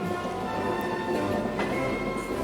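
Jungfrau cog railway mountain train running on a rack track with a central toothed rail, a steady low rumble and hum of wheels and motor close by, with no talk over it.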